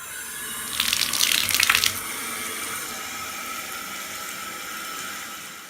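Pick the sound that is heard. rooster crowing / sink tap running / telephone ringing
sink tap running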